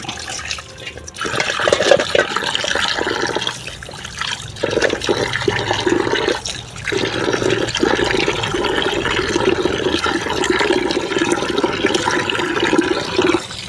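Water splashes and runs steadily as fresh fish is washed with salt, a close, continuous rushing sound with brief pauses and no talking.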